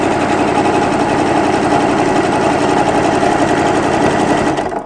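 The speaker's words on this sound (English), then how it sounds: "I wanna make sure the machine does most of the work. It's pulling the fabric through." A sewing machine runs steadily, stitching quilt binding with a triple zigzag stitch, its motor hum and rapid needle clatter loud, close and continuous until it slows at the very end.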